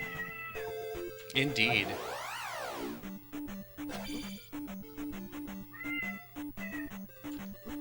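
A pet cat meows several times, nearby and fairly loud, over steady chiptune-style music, and a person says a word.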